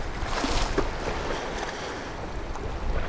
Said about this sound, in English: I can hear the water rushing in underneath the bottom of that cape there.